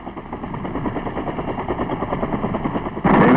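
Machine guns on helicopter gunships deliver suppressing fire on the enemy, a steady, dense rattle of rapid shots heard at a distance for about three seconds, then a sudden louder, harsher burst at the end.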